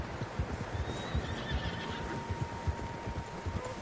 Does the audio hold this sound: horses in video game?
yes